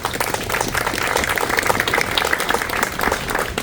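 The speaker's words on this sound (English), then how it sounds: "let's give them a round of applause" A crowd claps together in sustained, dense applause that stays fairly even from start to finish.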